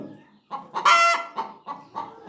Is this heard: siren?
no